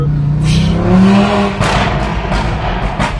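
An Audi RS3 revs hard, its engine rising to a loud close howl, then falling away into a string of sharp exhaust pops and crackles spaced irregularly over the last couple of seconds.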